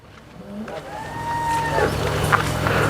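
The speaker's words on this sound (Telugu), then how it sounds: "అన్నీ కూడా హెచ్ఎఫ్ బ్రీడ్కి సంబంధించిన ఆవులు" A Holstein Friesian dairy cow on a farm near Hyderabad gives one long, drawn-out moo that rises and bends. It is close and fairly loud over a steady low farmyard hum.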